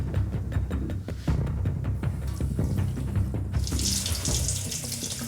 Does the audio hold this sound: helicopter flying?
no